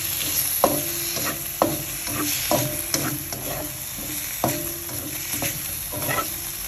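Chopped garlic and chives stir-fried in a pan with little oil, a steady sizzle broken by regular scraping strokes of a spatula about once a second, close and moderately loud.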